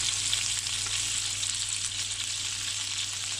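Chicken pieces with bits of fat left on sizzle in a pan for teriyaki skewers, an even, continuous hiss with no talking.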